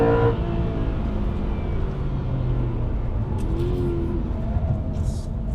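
An Aston Martin V8 Vantage with a manual gearbox drives a winding road with hairpins, its engine giving a deep, steady low rumble heard from inside the cabin, with a faint rising tone as revs build.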